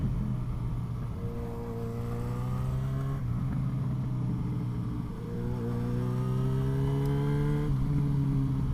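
A cruiser motorcycle's engine drones steadily while riding, rising in pitch through gears with audible shifts, a close continuous rumble under rushing wind.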